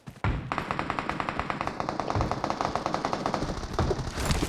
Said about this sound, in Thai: ได้ยินเสียงปืนอีกแล้ว